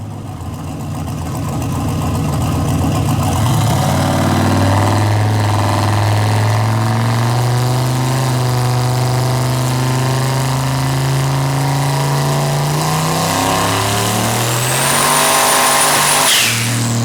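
A 1963 Chevy Nova clone making about 700 wheel horsepower roars on a chassis dyno, its loud engine note climbing steadily through a long rev sweep before the revs drop and the run winds down.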